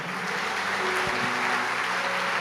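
A church congregation claps together during a sermon, a brief burst of applause over sustained tonal hum, probably from instruments.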